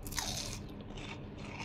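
Crisp bites into a small hotdog piece rolled in breadcrumbs and deep-fried, giving a quick crunchy snap followed by softer chewing crackle, close and fairly quiet with no talking.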